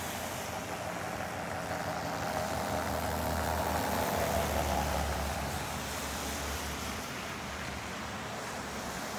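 Steady traffic of cars rolling into Big Bear Lake on a busy morning, a continuous broad rumble and hiss of engines and tires at moderate distance, with no talk.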